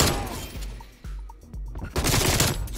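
Rapid automatic fire from an XM4 rifle in the video game Black Ops Cold War, delivered as several close, loud bursts with short gaps between them.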